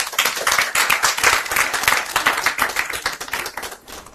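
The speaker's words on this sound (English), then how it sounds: "A round of applause, please." An audience at a Tony Elumelu Foundation International Women's Day event applauds an HR director being introduced to a panel. The clapping is dense, loud and close, holding steady throughout.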